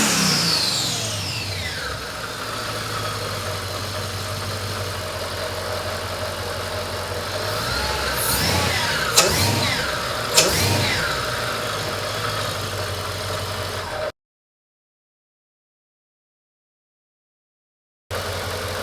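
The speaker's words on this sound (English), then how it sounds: "So I think it sounds pretty good, revving it up and all that stuff." A Mercedes E55 engine fitted with a cold air intake idles with a steady low rumble, then revs up in a few sharp bursts before settling, followed by a brief silence and the engine returning.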